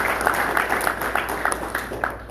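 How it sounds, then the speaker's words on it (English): Applause from an audience at an Eid celebration held by a South Asian community in Chicagoland, steady dense clapping sustained throughout at moderate loudness. "let's give them a round of applause."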